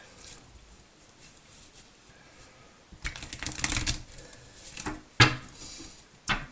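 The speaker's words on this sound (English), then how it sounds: "And one more shuffle." Crisp riffling and tapping of tarot cards being shuffled, quiet at first, then a louder burst of rapid flicks followed by a few sharp snaps.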